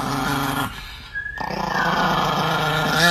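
A dog growls close by in rough, rising snarls with a short squeal partway through, no talking over it.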